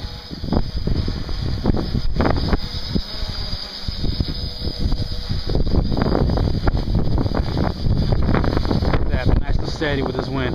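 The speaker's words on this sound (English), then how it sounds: "Right now it's a little bit windy" Strong wind buffeting the microphone in continuous loud rumbling gusts, with occasional faint voices and a thin mechanical whine from a Q450 quadcopter flying in the background.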